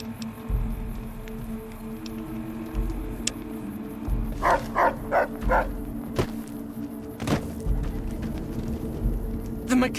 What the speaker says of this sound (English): The mechanical dog you have with...